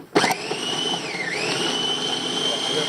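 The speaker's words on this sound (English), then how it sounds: "I started to do it in the wrong blender." A blender runs in a home kitchen during cooking of lamb hearts with a drizzle of olive oil: a sharp start, then a steady high whine with a brief dip in pitch as the load shifts, loud and close.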